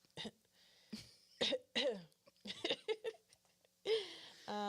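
Several short coughs and throat clearings in quick succession, close and fairly quiet, with a brief laugh-like sound near the end.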